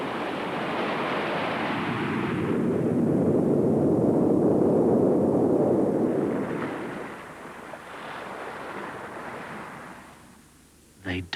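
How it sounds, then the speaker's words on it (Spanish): Rough, agitated sea churning in a long loud roar of surf, swelling and easing over several seconds, with wind noise and no voices over it. "El mar se agita"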